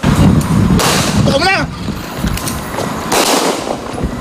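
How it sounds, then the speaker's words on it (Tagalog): Two sharp gunshots ring out a couple of seconds apart over a noisy outdoor background. "Umalingaw-ngaw ang mga putok ng baril."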